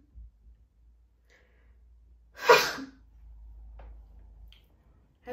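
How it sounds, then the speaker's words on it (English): A single loud sneeze bursts out near the mic, preceded by a brief intake of breath, in an otherwise quiet room with faint low hum. "I need to sneeze."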